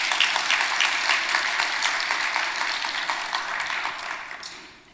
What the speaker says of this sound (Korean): 우리 박수 한번 쳐드려요.